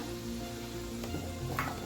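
Hot oil tempering sizzles and crackles steadily for a couple of seconds, with a brief louder spatter near the end, while making raw mango pickle.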